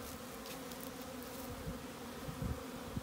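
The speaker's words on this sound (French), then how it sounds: "il y a de l'activité dans pas mal tous les ruches" Honeybees fly and buzz around a row of hives in a steady, dense hum, with several insects passing close and loud over the constant swarm drone.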